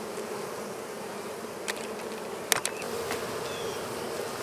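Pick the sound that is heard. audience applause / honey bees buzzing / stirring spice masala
honey bees buzzing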